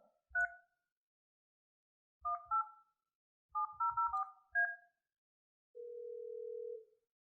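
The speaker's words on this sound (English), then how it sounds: "You dial the extension that you want to initiate this call with." Office phone keypad pressed in short bursts of dual-tone beeps, single presses and then quick clusters, followed by a steady held tone, close and clean with no talk.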